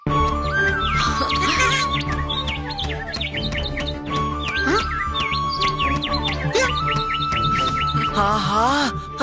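A powerful cartoon bird calls in quick, bright chirps and swooping tweets, repeated in bursts over a steady musical background.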